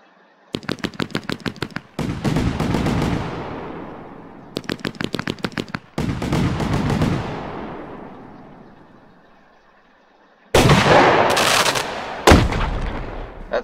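A fireworks cake marked 2021, lit at a gas station, fires rapid crackling volleys in two bursts, each trailing into a long echoing rumble, before a louder closing salvo of sharp bangs.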